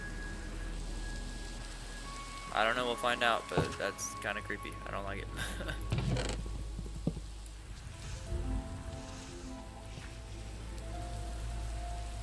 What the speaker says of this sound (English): Oh, it's raining outside now.